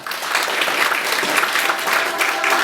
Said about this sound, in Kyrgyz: Бир кол чаап коелу туугандар.